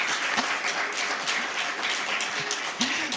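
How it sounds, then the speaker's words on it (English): Steady applause from the audience at a county supervisor candidate forum, moderately close and continuous, with a few voices calling out briefly amid the clapping. "I think we can give them a nice round of applause"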